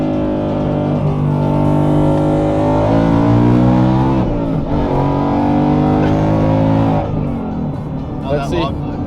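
A 700 whp ProCharged Ford Mustang pulls hard, its engine and supercharger climbing through the gears in a loud, sustained roar heard from close by, with a brief shift dip midway and voices near the end.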